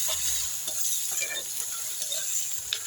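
Tomatoes and green chilies fry in a pan with a steady hiss and sizzle, broken by repeated scraping strokes as they are stirred, close up and with no talk.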